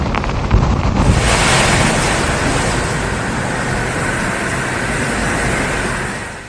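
High sea waves crash and surge steadily under strong wind buffeting the microphone during Cyclone Dana, a loud, continuous roar of surf and gusts with no voices.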